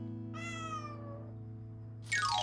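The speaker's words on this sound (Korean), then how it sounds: "이때 구조단 눈에 띈 고양이 한 마리." A stray cat at a demolition site lets out one clear, drawn-out meow that slides downward over a steady low hum, followed by a sharper, brighter cry at the end.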